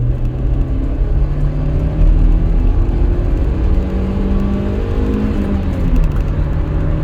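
A Rover 25 GSi accelerating from about 30 mph, heard from inside as a loud, steady engine drone whose pitch climbs through the gears, with road rumble underneath and no talk.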